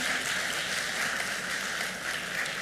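Applause fills a hall at the Morehouse School of Medicine 2024 Class Day for an award honoree, a steady, dense crowd clapping that holds at an even level throughout with no talk over it.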